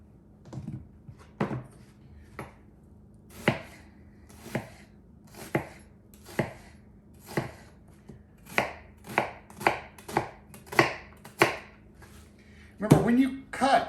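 A knife chops a strong onion on a cutting board in a kitchen making Louisiana dirty rice, with close, crisp strokes, first spaced out, then quickening into a faster run of cuts.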